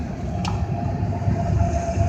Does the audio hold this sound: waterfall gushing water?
no